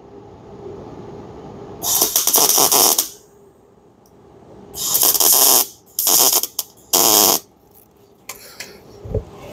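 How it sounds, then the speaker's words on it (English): Spot welding through punched holes in a rusted car quarter panel: four loud bursts of crackling, buzzing arc, each lasting about half a second to a second and a half, separated by quiet shop background. "I went ahead and spot welded through that onto the back side of this panel"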